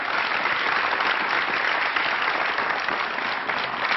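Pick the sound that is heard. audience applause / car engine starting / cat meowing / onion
audience applause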